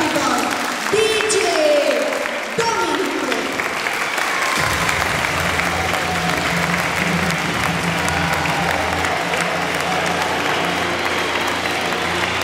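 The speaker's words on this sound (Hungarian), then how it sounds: "Köszöntsük egy nagy-nagy tapsal" Crowd at a primary school carnival show in Nyírmeggyes, Hungary, applauds loudly and steadily while party music with a sustained tone comes in and continues beneath the clapping.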